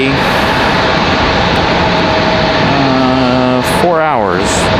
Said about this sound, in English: Copa 466 coming in from Panama City.